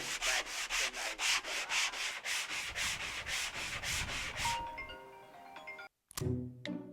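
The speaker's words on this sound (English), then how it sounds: "It just needs a bit of sanding." Hand sanding wood during a van build, rhythmic back-and-forth rasping strokes, about two per second, close and steady for several seconds before stopping, followed by a brief chime-like ringtone.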